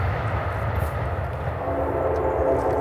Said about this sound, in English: Yeah, train.